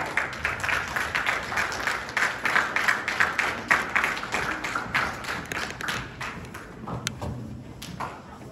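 An audience at a fifth-grade pinning ceremony gives recognized students a sustained round of applause, loud, rhythmic and crowded at first, then thinning to scattered claps.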